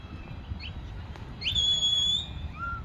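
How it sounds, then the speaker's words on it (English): At outdoor Highland Games, a shepherd's herding whistle directs a sheepdog: a few short chirps followed by one long, steady high whistle with a falling note at the end, over soft background noise. "So he uses a whistle to give him commands to get the sheep."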